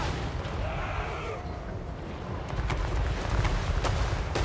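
Tank artillery in Total War Warhammer 3 fires in a dense, continuous roar of booming shots and rumbling battle noise, with several sharper cracks near the end.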